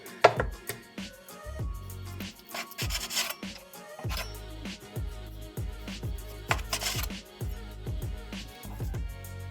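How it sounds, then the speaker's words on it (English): A sharp knife cuts pork into thin half-centimetre slices for Thai sweet pork jerky, making repeated close thuds on a cutting board with rubbing strokes between cuts and no talking. "So first we have to cut the meat in nice thin slices"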